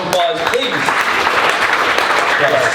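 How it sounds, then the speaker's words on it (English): A crowd at a comedy bar show claps loudly for themselves, a dense continuous round of applause mixed with cheering and voices throughout. "Give yourself a round of applause, please."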